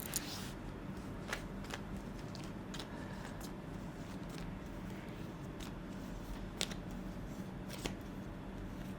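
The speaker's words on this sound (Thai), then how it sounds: "เดี๋ยวอาจารย์หยิบไพ่ให้นะครับ" A fortune teller shuffles and draws tarot-style cards, giving a steady soft papery rustle with sharp snaps and flicks at irregular intervals, close and alone with no talking.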